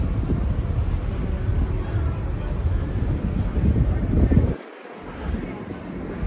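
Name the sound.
wind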